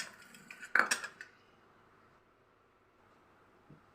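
A cooking pan is set on a stove with a brief metallic clatter and clink, close and fairly quiet, followed by near silence.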